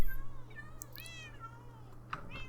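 A cat meows several times in a row, with drawn-out rising and falling cries close by over a steady low electrical hum, and a final shorter meow at the end.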